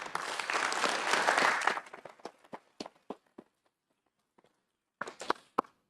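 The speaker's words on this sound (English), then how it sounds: "let's hear a round of applause" A burst of applause at a town council meeting honouring students of the month, loud and dense for under two seconds, then thinning into a few scattered claps with a brief late flurry.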